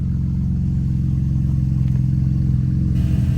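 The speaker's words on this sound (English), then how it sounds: "it's got a nice throaty sound, especially for a V6, but it'll tame down here once it idles down" A fifth-generation Chevrolet Camaro V6 with a new exhaust runs at idle, giving a deep, throaty, steady pulsing rumble close to the tailpipes with no talking.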